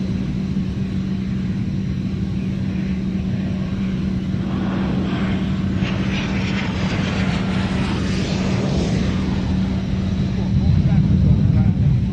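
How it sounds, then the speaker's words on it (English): Swiss Air Force Boeing F/A-18 jet at an air show, a continuous rumbling roar that swells slightly toward the end, with a commentator talking over it. "The Boeing FA-18 from the Swiss Air Force"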